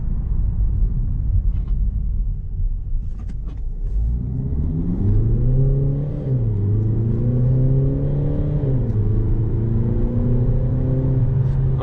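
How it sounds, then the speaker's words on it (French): Peugeot 3008 GT Line diesel engine revving hard under acceleration, a loud, close rising drone with steady harmonics that climbs, dips briefly and climbs again, following an earlier lower rumble. "Alors le diesel forcément il s'emballe"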